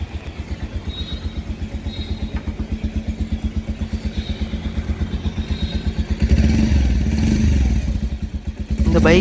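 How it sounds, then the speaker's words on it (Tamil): Bajaj Pulsar 125 BS6 motorcycle with its engine running close by, giving a steady, rhythmic low exhaust thump that grows louder and rougher as it is revved near the end. "இந்த பைக்கினுடைய எக்ஸ்காஸ்ட் நோட் வந்து நம்ம வந்து செக் பண்ணி பார்க்கலாம்"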